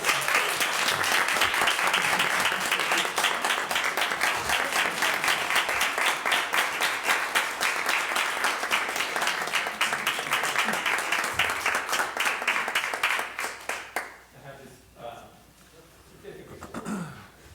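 A meeting audience applauds an honoree, steady dense clapping for about fourteen seconds before it tapers off into scattered claps and quiet room noise.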